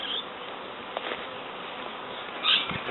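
Bees buzz in a hive lodged inside a sofa, a steady, dense droning swarm sound that runs throughout at moderate level, with a few louder buzzes from individual bees passing close.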